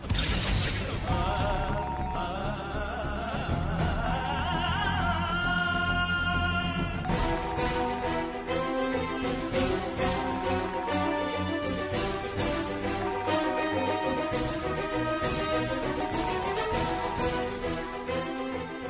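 A telephone ringing in a Malayalam TV drama scene, repeated electronic ring bursts in a steady pattern over background music, clear and prominent.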